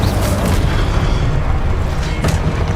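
An Incendio fire spell in Hogwarts Legacy goes off as a loud, dense blast of booming, roaring fire noise, sustained across the whole moment with a sharp burst near the end and no voices.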